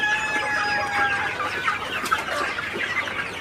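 Sonali and broiler chickens cluck together at feeding time on a hot, humid afternoon, a dense, steady chorus of many birds close by with no talk.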